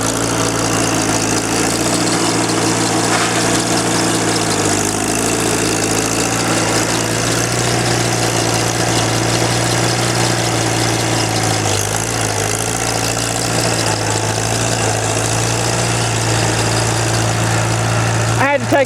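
A Farmall C tractor engine runs steadily while plowing muddy ground, a loud, close, continuous chugging drone with a strong low hum that holds throughout, ending with a brief handling noise.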